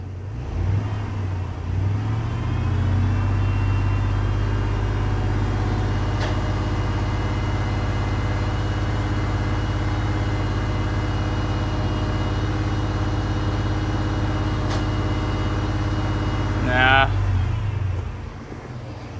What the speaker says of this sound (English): We're gonna try to give this a little bit of RPM and see if we can't.